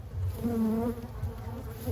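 Buzzing of a recently swarmed cluster of honey bees, a steady close drone with a wavering hum that rises and falls over two seconds, no voices.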